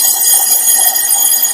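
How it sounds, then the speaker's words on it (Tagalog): An electronic buzzer from a weakening alarm device sounds continuously, a loud, steady high-pitched tone with a slight pulsing waver, alone with no speech. "Humina lalo, humina yung buzzer, hindi siya umikot"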